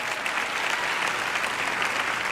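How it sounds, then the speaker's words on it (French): Applause in a church teaching audience, a dense continuous patter of clapping rather than a single person, steady and moderately loud for the whole short stretch. "Une personne ici a applaudi un peu."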